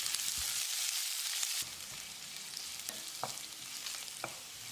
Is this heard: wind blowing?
no